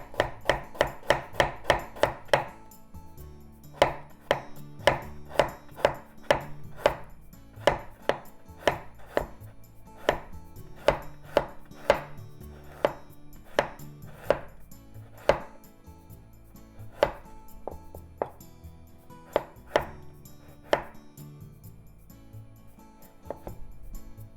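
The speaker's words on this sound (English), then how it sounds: "So ginger. I'm going to make it into very thin strips with the skin on, so I washed it really well." A knife slices washed, skin-on ginger into thin pieces on a board for asari clam rice, giving a steady run of sharp, close chops, quick at first and then slower and evenly spaced, with no talking.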